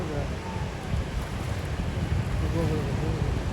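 Ocean surf washing onto Rockaway Beach in New York City, a steady broadband wash with wind buffeting the microphone, while people talk nearby over the water.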